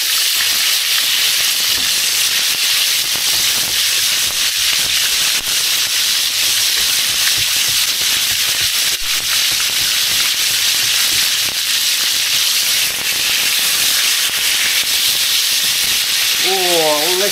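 Bacon crisping in a pan gives a steady, loud broadband sizzle and hiss that runs unbroken throughout, close to the ear, with faint voice-like sounds in the mix.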